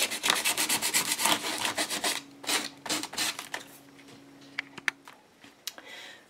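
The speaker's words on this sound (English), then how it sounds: "Bring in some sandpaper" Sandpaper rubbed by hand over model buildings, a steady series of close, raspy back-and-forth strokes that give way to a few scattered light taps and scrapes near the end.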